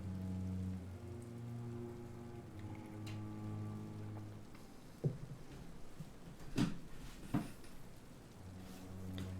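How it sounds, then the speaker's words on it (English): Rain falling in London, a steady wash of drops under a low musical drone, with a few sharper knocks and bumps partway through. "Raining and nobody's got umbrellas."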